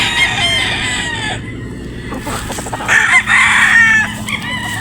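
A gamefowl rooster of Sweater Boston bloodline crows loudly and close, twice in quick succession, with clucking and other farmyard fowl sounds around it.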